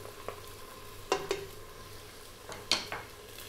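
Onion, chili and garlic ginger paste fry in a pan for a mutton aloo gosht, with a faint sizzle beneath a few sharp, close utensil scrapes and clinks.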